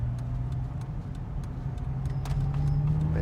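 A BMW Z4 with a 3-litre engine pulling hard on the road, a steady, loud low engine drone heard from inside with faint ticking, no talk over it.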